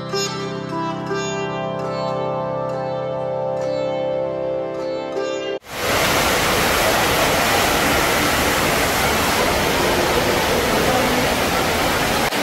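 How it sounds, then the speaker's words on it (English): Indoor waterfall pouring from the top of Jewel at Singapore airport, a loud steady broadband roar that bursts in abruptly midway after a calmer ambient stretch and then continues unbroken. "watch the water fountain dropping from the top"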